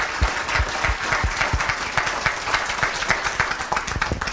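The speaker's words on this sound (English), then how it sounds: "please join me in giving him a round of applause for the hard work on this report." Loud, dense audience applause after a 2012 business forecast report presentation, a continuous wash of many hands clapping in a room, close and sustained with no talking.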